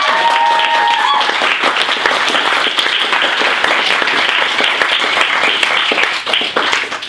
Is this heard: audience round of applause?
yes